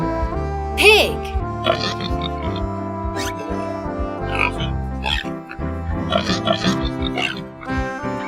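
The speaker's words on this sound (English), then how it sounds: "Pig." A pig oinks and grunts in short repeated snorts over upbeat children's music, with a sharp squeal near the start.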